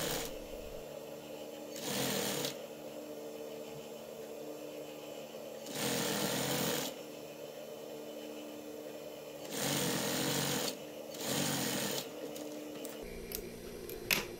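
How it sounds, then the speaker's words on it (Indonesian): Sewing machine stitching a koko shirt, running in four distinct bursts of rapid whirring stitches separated by pauses, close and clear, with a brief clatter of handling at the end. "Jadi kita jahit lagi, kita setik lagi satu sepatu jaraknya"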